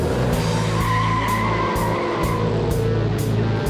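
A Ford Mustang drifts around the Albi race circuit, its engine roaring steadily under a loud, continuous tire skid that holds at close range for several seconds.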